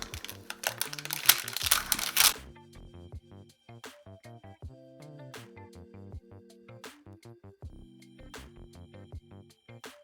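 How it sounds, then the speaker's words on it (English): Embroidery stitches are lightly ripped out of fabric, making a quick burst of crackly tearing for about two seconds, after which soft plucked background music carries on alone. "So to remove it, you just kind of lightly rip it out."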